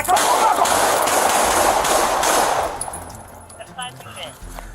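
A dense rapid burst of gunfire during a police confrontation with an armed suspect, loud and close for about three seconds, then fading into scattered noise and shouting.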